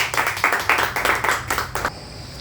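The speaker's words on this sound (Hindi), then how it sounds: "हमारे PUC मालिक के लिए एक बार जोरदार तालियां" A small audience claps at an RCM business meeting, a quick, fairly steady run of hand claps lasting about two seconds before fading into room noise.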